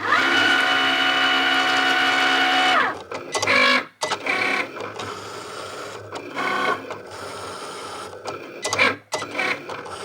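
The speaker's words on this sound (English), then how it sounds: "then I'm going to pop it through my Cricut" A Cricut cutting machine works through a sticker sheet: a loud, close motorised whir with a sliding tone for about three seconds, then a series of shorter mechanical bursts and clicks separated by quieter gaps.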